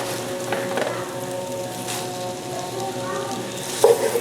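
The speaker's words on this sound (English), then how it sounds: "Just stir it around somewhat like this." A spoon stirs food around the bottom of a pot while cooking pastrami, with a soft, steady sizzle and irregular scraping, and a louder knock near the end.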